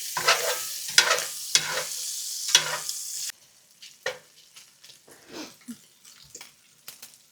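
Food being tossed and browned in a cast iron pan: a loud, steady sizzle with sharp scraping bursts for about three seconds, then the frying drops to a quieter crackle with scattered soft clicks.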